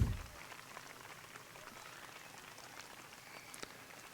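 Rain falling steadily at an outdoor youth softball game for girls ten and under, a soft, even patter and hiss that holds throughout at low level, with no voices.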